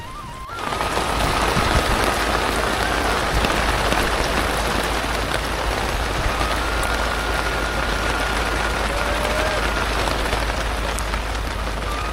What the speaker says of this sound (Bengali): তবু বৃষ্টির ফোঁটা গায়ে এসে লাগছিল